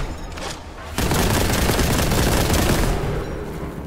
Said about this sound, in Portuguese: Eu vou atirar na perna dele